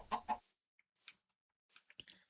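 A Minecraft chicken in a modded game gives a few short, quiet clucks in small bursts separated by silence.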